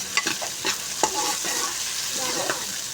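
Garlic, ginger and ground whole dried coriander paste frying with tomatoes for an Afghani dahi baingan masala, a steady close sizzle broken by spoon stirring and scraping, with no talk.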